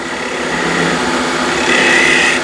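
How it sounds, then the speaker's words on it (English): A 10 mm spindle gouge cutting a curve on a wooden salt shaker spinning on a lathe, a steady close whirring hum with a scraping hiss that brightens toward the end. "A 10 mil spindle gouge, and I'm just going to continue on the curve nice and gently."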